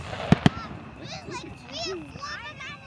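Fourth of July fireworks give two sharp, loud thumps in quick succession near the start, followed by crackling and whistling bursts, with children's voices audible in the background.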